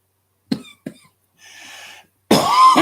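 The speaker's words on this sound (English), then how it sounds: "That's a weed cough." Two sharp coughs after smoking weed, followed by a softer raspy breathy stretch and then a louder, longer harsh coughing burst, close and alone.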